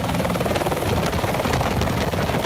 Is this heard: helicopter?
yes